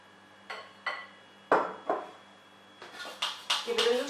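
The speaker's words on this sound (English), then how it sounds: "The next step is to then add your combined ingredients to your cheesecake dish." Crumbly vegan cheesecake base poured into a cheesecake dish, giving a handful of distinct clinks and taps against the dish, close and clear, growing busier toward the end.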